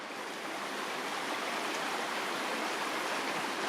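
A river stream flows over mossy rocks in a ravine, a steady, dense rush of water that stays loud and even from start to finish, with no voices.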